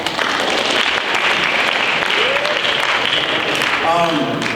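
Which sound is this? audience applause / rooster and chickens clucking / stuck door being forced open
audience applause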